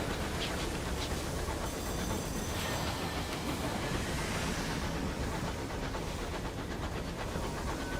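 Train rolling along in the video game Sunless Skies, a dense, loud, continuous rumble with faint rhythmic clatter, no talk.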